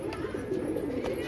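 Pigeons cooing in a steady, soft, low murmur, close by and continuous, with faint broadband noise behind.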